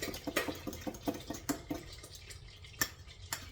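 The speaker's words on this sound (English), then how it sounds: "And you hear that popping on a low flame? That is actually water in the butter." Irregular small pops and crackles from water in butter sizzling gently in a pan over a low flame, sharp clicks scattered among a soft hiss, close by with no talking.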